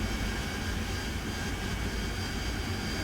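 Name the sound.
AV-8B Harrier jet engine in video game DCS World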